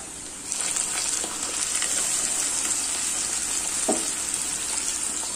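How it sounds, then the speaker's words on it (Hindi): Water poured into a pan of roasting potato and pointed gourd curry hisses and sizzles continuously, a close, steady frying rush with faint stirring clinks and no talking. "इसमें थोड़ा सा पानी दे दूंगी दोस्तों।"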